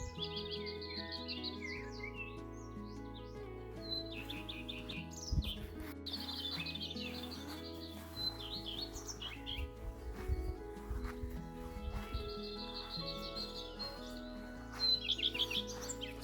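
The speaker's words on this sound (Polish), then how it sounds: "Słuchajcie, jak te ptaki nadają." Birds chirp and trill in bright repeated phrases in a May garden plot, over a steady low background hum, moderately close and continuous.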